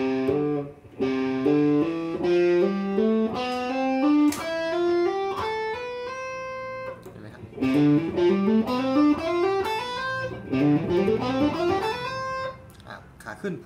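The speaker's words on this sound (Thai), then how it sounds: "แบบฝึกหัดแรกที่อยากให้ใส่คือ hammer on pull off นะครับ" Distorted electric guitar playing a hammer-on and pull-off finger exercise, with smooth legato note runs climbing in repeated scale patterns, clear and continuous throughout.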